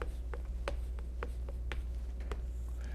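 Pen strokes on paper as someone writes out an accounting equation by hand, a series of short scratchy marks in an uneven rhythm, close and fairly quiet, with no voices.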